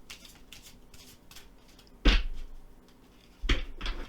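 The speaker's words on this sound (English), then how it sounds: "So I am going to shuffle and draw some tarot cards for you." Tarot cards being shuffled by hand: a quiet stretch, then short, crisp riffling bursts, one strong flurry followed by two quicker ones close up.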